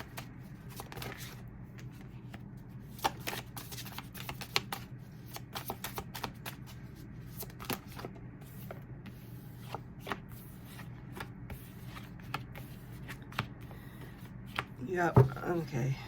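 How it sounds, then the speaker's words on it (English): Tarot cards are shuffled and pulled in a close, quiet rustle, with crisp riffles and sharp card snaps scattered over a soft room hum and one louder flurry near the end. There is no talking. "So I'm going to pull 3 cards for the base spread, 3 cards for clarifier."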